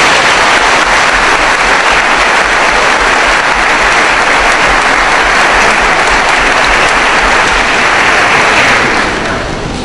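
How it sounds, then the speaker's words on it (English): Sustained loud applause from a large audience at a college commencement ceremony, a dense steady wash of clapping that continues for about ten seconds before starting to fade. "Please give these folks a round of applause"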